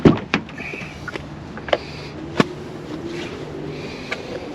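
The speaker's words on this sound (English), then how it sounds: "You can lock your door and unlock it." The doors of a Kia Sportage HEV AWD SUV lock and unlock, giving a few sharp mechanical clunks and clicks spread over a few seconds inside the cabin, with no talking.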